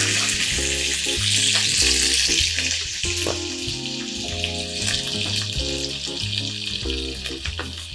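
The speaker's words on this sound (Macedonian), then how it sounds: "И пропржете го во истата тава." Onion fries in a pan with a loud, steady sizzle and crackle, mixed with occasional stirring and background music, and no talking.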